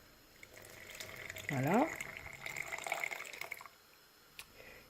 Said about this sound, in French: Je vais rajouter un tout petit peu d'eau.